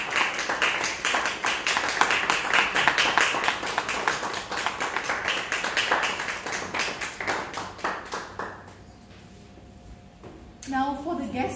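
A round of applause from guests and members opening a Toastmasters meeting, clapping with distinct individual claps for several seconds before fading out, followed by a quiet pause and then a speaking voice.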